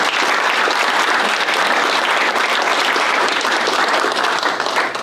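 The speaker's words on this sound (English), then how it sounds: "Round of applause for that one" An audience at a city council meeting applauds, producing dense, sustained clapping that stays loud and even throughout.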